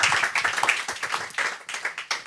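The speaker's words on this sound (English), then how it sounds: "if we could all applaud a very dramatic exit" An audience claps steadily at a security conference panel, a moderately close, brief patter of many hands applauding throughout, with no voices over it.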